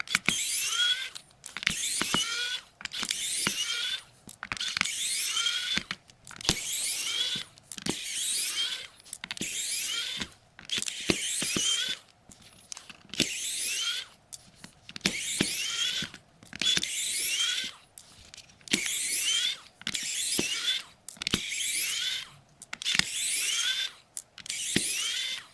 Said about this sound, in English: we got to get all these screws out. So we'll grab our screwdriver